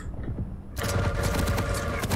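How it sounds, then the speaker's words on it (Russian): Gunfire in the video game Quake Champions breaks out suddenly after a quieter stretch, becoming a loud, rapid, continuous stream of shots. "Пошла стрельба."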